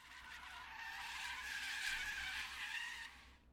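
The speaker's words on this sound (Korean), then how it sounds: "듣기 싫을 정도로 요란한 브레이크 소리" A loud, sustained screech of truck brakes in a visual novel game, a single harsh squeal that holds for a few seconds and then cuts off, with no talking.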